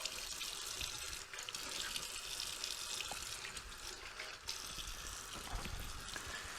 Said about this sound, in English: rinse it all off, rinse the lather off.